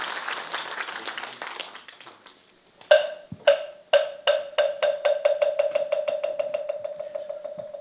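Audience applause at a Buddhist book-launch ceremony in Busan, beginning as a blurred wash of clapping, then a few sharp separate claps that settle into a steady, even rhythmic clapping carrying on to the end.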